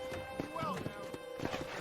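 Horse hooves clip-clop at a steady walking rhythm in the Western video game Red Dead Redemption, moderately close, while someone talks over them.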